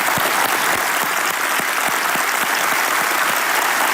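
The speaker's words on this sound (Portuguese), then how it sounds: "aplaudir a Jesus." A church congregation at a worship service claps steadily and loudly, a thick, continuous wash of applause with a few sharper individual claps standing out.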